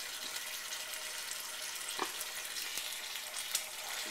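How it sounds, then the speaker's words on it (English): A pork roast stuffed with ham and cheese sears in three tablespoons of oil, a constant soft sizzle and hiss with a few faint pops and clicks, quiet and close. "I got it kind of standing up here doing the side searing"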